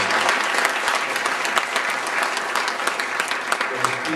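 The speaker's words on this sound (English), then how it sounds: "Please give a round of applause for Mr. Sam Mosley." Audience applause at an outdoor Mississippi Blues Trail marker dedication in Tupelo, steady dense clapping from a crowd throughout, close and full with no pauses.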